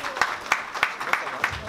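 A small crowd at a French cycling club's 2020 rider presentation in La Feuillie claps for cyclist Lucas Pétrel, with sharp hand claps falling in an even rhythm under ongoing talk.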